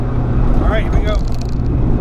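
A project car with a boosted engine driving onto the highway, a steady loud interior drone of engine and road noise throughout, with a voice speaking over it.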